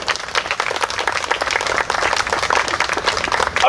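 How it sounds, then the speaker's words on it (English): Wedding guests applaud during a ceremony after the ring exchange, a dense, steady burst of many hands clapping close by that carries on for several seconds. "Everybody, a round of applause."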